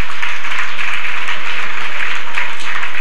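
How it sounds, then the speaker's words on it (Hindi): A hall audience applauds steadily and loudly during a live Jain temple sermon, a dense continuous wash of clapping with no voices on top. "ताली बजा रहे बेचारे"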